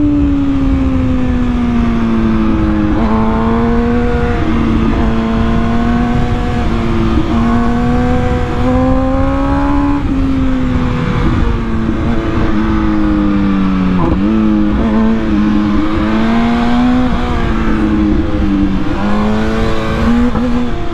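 An MV Agusta Brutale 1000 Serie Oro motorcycle engine, ridden with manual gear shifts, droning loud and continuous as the pitch climbs and drops through repeated gear changes.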